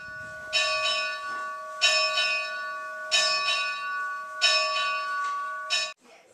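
A single church bell at Numazu Church in Japan, struck five times at a slow, even pace of about one stroke every 1.3 seconds. Each bright, ringing stroke sustains and fades, and the final stroke is cut off abruptly.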